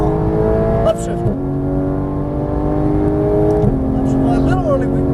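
Porsche GT3 race car engine revving loudly on a track at Las Vegas Motor Speedway, pitch climbing steadily then dropping at two upshifts before rising again, with a constant close engine roar throughout.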